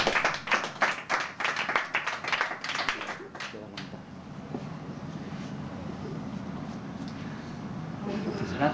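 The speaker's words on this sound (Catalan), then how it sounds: "Un aplaudiment pel senyor que aguanta les prediccions." An audience at a close-up card magic show breaks into sharp, quick clapping that lasts a few seconds and then fades into quiet room tone and background murmur.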